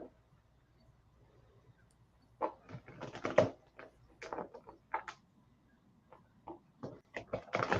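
Tarot cards are shuffled by hand, making a faint, close run of irregular soft slaps and snaps that start after a near-silent pause and come in scattered clusters.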